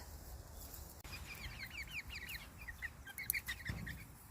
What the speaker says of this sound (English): 4 little Rhode Island red pullets.